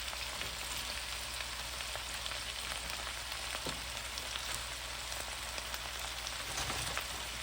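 Shredded cabbage fries and cooks down in a hot pan with a steady, dense sizzle that crackles evenly throughout, close and fairly loud with no voices.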